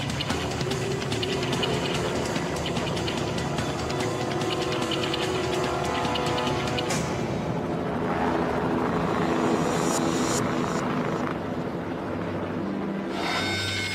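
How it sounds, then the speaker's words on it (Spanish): A rescue helicopter hovers over the Potomac River after a plane crash, its loud rotor and turbine drone continuous and near, under dramatic music with shifting swells. "Jean saltó a la barra del helicóptero, agarró a Nikki y así la llevó hasta un lugar seguro"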